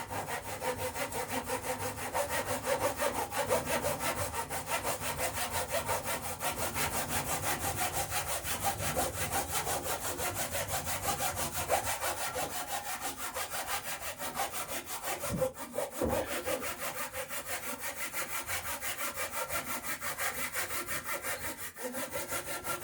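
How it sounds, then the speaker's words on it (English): Box saw cutting wood for the rails of a 21-foot open boat at a workbench, steady rhythmic back-and-forth rasping strokes close up, continuous and loud with no talk. "we got our box saw here"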